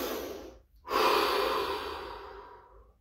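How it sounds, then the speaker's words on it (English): One deep breath, a long audible inhale and exhale close to the mic after a short pause, heard alone with no talking. "Take a deep breath."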